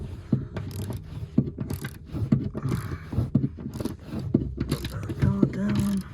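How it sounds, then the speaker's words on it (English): A ratchet wrench tightens bolts while the interior of a 2005 Ford Expedition is reinstalled. Irregular bursts of close metallic clicking and scraping are separated by brief pauses. "finished tightening that one up"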